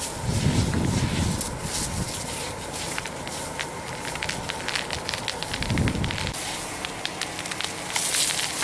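Dry grass and trees burning on open land near a residential area, a steady crackling fire roar with wind buffeting the microphone and occasional rustling, no talk.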